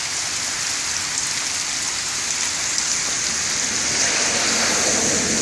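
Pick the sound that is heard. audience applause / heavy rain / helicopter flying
heavy rain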